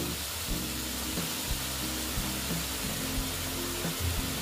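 Squash and potato curry being sautéed in a pan with a drop of water, giving a steady close sizzle with faint scraping stirs throughout, no voices.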